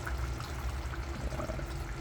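Water pours steadily into a simmering pot of chicken tinola, a continuous rushing, bubbling wash with low rumble that stays even from start to finish.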